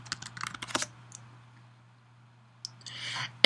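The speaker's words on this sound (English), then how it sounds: "And I'm going to type in my password." Fingers type a password on a computer keyboard, giving a short cluster of crisp key clicks, a silent pause, then a few more keystrokes and a final sharp click, all close up.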